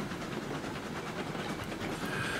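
A train rolls along track in the Railroads Online video game with a steady, dense rumbling roar and faint rhythmic clatter, loud and continuous.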